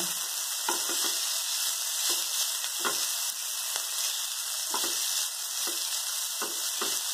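Lentils with a pinch of turmeric are dry-roasted in a pan, producing a strong, close sizzle with rhythmic scraping stirs about once a second, with no voices.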